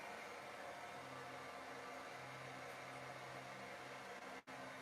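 Hair dryer blowing on a freshly painted Sailor Moon figure, a steady close airy roar with a faint motor hum that cuts out briefly near the end.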